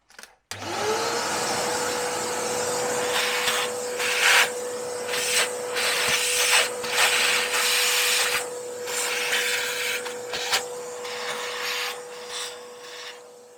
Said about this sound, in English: I'll get the vacuum cleaner